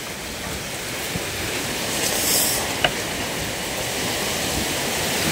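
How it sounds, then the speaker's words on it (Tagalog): Strong typhoon wind blows as a loud, steady broadband roar with slight gusting swells and one brief knock, and no voices. "Ayan, lakas na yung hangin."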